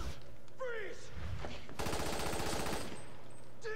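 Resident Evil 6 co-op gameplay with a rapid burst of automatic gunfire in the middle, set among brief game effects and a player's voice talking.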